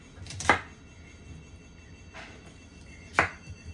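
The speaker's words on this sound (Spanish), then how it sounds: "Entonces, voy a picar mi cebolla." A knife chopping an onion into long strips in a home kitchen while beans are stewed: a few sparse, crisp cuts, close and fairly quiet, with long pauses between strokes.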